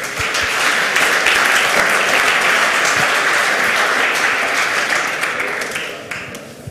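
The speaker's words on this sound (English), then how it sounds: "start with a warm applause for Peter" Loud, warm applause from a conference audience at the CCC Congress welcoming a speaker, dense continuous clapping that holds steady and then gradually tapers off.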